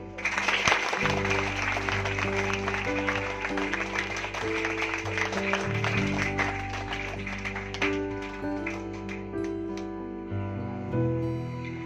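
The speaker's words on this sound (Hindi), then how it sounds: "एक बार पहले संजय सर के लिए ताली बजाओ।" An audience at a Saraswati Pooja 2024 gathering claps for Sanjay sir, a dense burst of applause that thins out toward the end, with music tones sustained beneath it.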